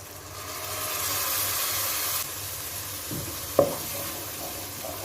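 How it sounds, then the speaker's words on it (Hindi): Tomato paste made from ground tomatoes hits frying spices in a pan, giving a loud sizzling hiss that swells then eases, followed by a brief clatter of stirring. "मसालों को अच्छी तरह से भूनने के बाद अब इसमें मैं टमाटो पेस्ट शामिल कर दूँगी"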